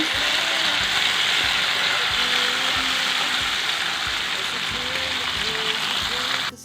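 Onion and tomato fry in a pan with a steady, close broadband sizzle, while a voice talks over it throughout.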